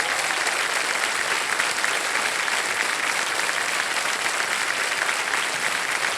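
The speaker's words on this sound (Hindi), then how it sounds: "यस ताली बज जाए आरती जी के लिए" Studio audience of a televised quiz show applauding, a dense continuous wash of clapping at even loudness for several seconds.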